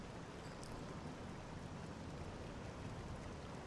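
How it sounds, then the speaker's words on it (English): Steady, dense rain hiss in the video game Oblivion fills the whole stretch, an even wash of falling drops with no pauses. "Oh, I can hear the rain."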